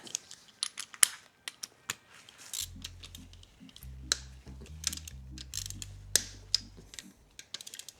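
Close, quiet ratchet wrench clicking in quick rapid bursts while loosening 10 mm bolts on the heads of a junkyard LS engine, mixed with tool taps and clinks and a low humming tone, no talking.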